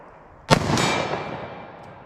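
.38 Special +P+ FBI load revolver firing Speer lead semi-wadcutter hollow points: one sharp, loud shot with a quick follow-up crack and a long rolling echo fading outdoors.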